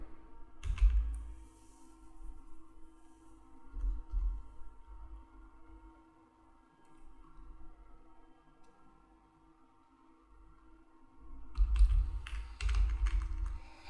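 Computer keyboard typing while an item name is entered in Tally Prime accounting software: two short bursts of close key clicks, at the start and near the end, separated by a quiet stretch with a faint steady hum.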